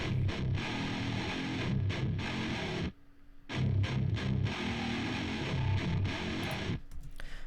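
Distorted electric guitars panned left and right playing together, a thick, loud chugging riff with short gaps and one longer pause midway, no voices.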